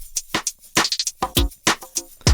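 A sampled root note triggered in Cakewalk Sonar's XSampler plays back as a short, choppy sequence of clipped vocal-like fragments with brief gaps, close and clear.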